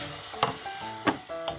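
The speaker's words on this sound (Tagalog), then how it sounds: "ihuhulog na natin yung ating hipon or shrimp" Shrimp hitting a hot pan with garlic, giving a short burst of sizzling and frying with a few stirring scrapes, close and fairly loud.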